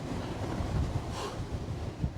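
Strong wind gusting around 50 miles an hour buffets the microphone in a steady roar with rising gusts on a Scottish mountain, a loud rushing noise with no voices.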